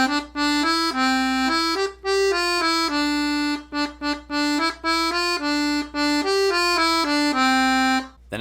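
A 48-bass accordion plays two phrases of the Dreydl song alone, a clear, steady melody of sustained reedy notes over held chords with brief breaths between phrases.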